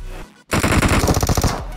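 A DP-28 light machine gun fires in PUBG Mobile, a loud rapid automatic burst of a dozen or so close shots after a brief pause, with no talking.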